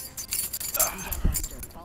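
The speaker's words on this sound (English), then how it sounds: "Look, keys! You play with your keys?" Keys jangle and clink in short bursts during an Apex Legends match, with a dog-like whimper and game sounds mixed in and a voice talking over them.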